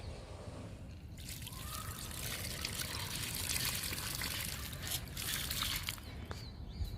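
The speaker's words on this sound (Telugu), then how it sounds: "ఇంకా లాస్ట్ అండి బీరపాదుకి వాటర్ ఇచ్చేద్దాము" Water trickles and splashes steadily for several seconds onto ridge gourd plants, a soft continuous pour close by with faint outdoor ambience and a bird in the background.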